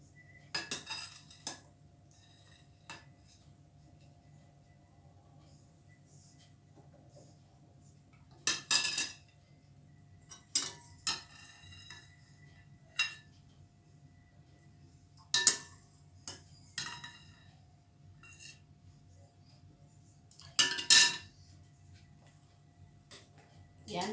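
Palitaw rice balls being placed into latik sauce in a pan, heard as sparse, scattered clinks and scrapes of a utensil against cookware between quiet stretches, over a faint low hum.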